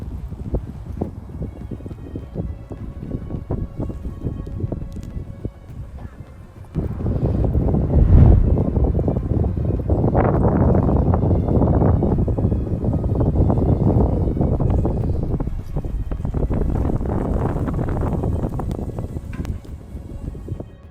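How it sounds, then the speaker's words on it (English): Strong windstorm gusts sweep across a gas station in Brazil, a loud rumbling roar that swells sharply partway through and keeps surging in waves. "A sudden windstorm hits a gas station in Britannia, Brazil, bringing strong gusts and flying debris."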